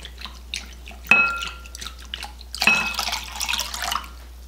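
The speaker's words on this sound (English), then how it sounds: "now I'm going to be adding a 1/2 cup of cold water." Cold water is poured into a bowl in two short splashy bursts, heard up close in a quiet room.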